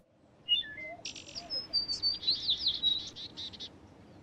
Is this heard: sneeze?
no